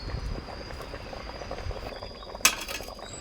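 A pot of bamboo shoot curry with yanang leaves boils steadily with soft, continuous bubbling close by, and a single bright clink lands near the end.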